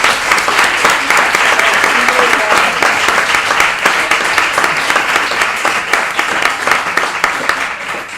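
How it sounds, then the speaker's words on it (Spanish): Loud, sustained applause from a crowd, dense clapping that continues throughout and slowly tapers near the end. "Así que un aplauso"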